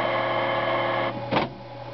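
A faulty printer runs with a loud, steady mechanical whir and hum, its tone shifting partway through with a brief grinding surge of the motor, close up.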